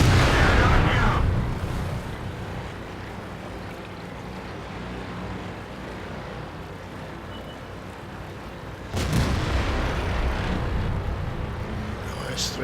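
WZ 120 Chinese medium tank cannon firing in World of Tanks with premium ammo, two heavy booming shots about eight seconds apart, each a sharp blast trailing into a low rumble over steady engine drone.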